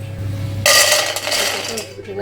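A fried uppu seedai drops onto a hard surface with a bright clink and a brief rattle, then settles.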